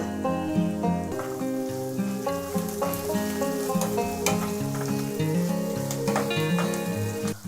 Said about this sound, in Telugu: 1 కప్ ఆనియన్ వేసుకుందాము. అలానే 4-5 పచ్చిమిర్చి, కొద్దిగా పుదీనా, కొద్దిగా కొత్తిమీర